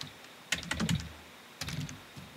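Two short bursts of clicky typing on a computer keyboard while entering a label in network lab software, close and moderately quiet, with a pause between the flurries of keystrokes.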